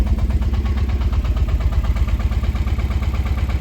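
A car engine idles loudly and close by, with a steady, throbbing rumble that continues throughout.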